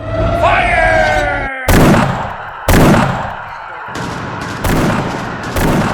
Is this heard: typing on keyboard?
no